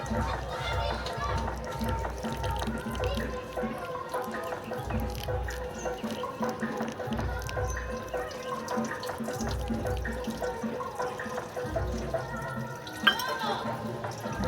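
Fungicide-treated water poured into a potted flowering Lobivia hybrid cactus, a steady trickling run of water continuing through most of the stretch while a person talks over it nearby.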